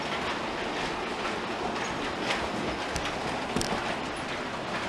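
Model railway trains roll through a yard crossover on a layout, a continuous rumbling clatter of small wheels with a few sharp clicks over the points. It is fairly close and steady, and no voices are heard.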